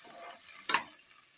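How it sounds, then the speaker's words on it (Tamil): Tomato and green chili sauté in a pan, giving a steady soft sizzling hiss with one brief clatter of a utensil midway through the short stretch. "அதை சேர்த்து சும்மா லைட்டாக வதங்குது"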